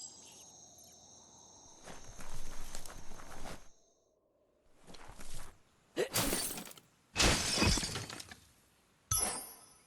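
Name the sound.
box being smashed up, from video game Biomutant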